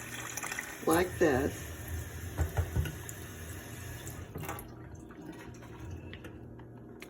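Water is poured into a microwave-safe container to cover an egg, a brief splashing fill that fades into quieter trickling while a person talks over it.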